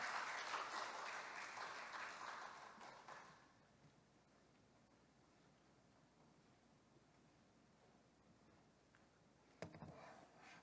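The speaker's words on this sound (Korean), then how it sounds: "이 시간 박수로 환영하겠습니다." Applause from a church youth group welcoming a missionary speaker, fairly soft and brief, fading after about three seconds into near silence with a faint knock near the end.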